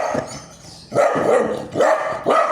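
A dog barks three times in short, close bursts separated by brief pauses, loud and alone with no talking, while running around inside a gated yard.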